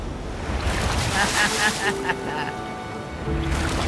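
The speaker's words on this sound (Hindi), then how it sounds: "ओके, ये आई बड़ी लहर।" A large ocean wave surges and breaks near a rocky island shore, a loud roaring wash mixed with wind buffeting the microphone, with people talking over it.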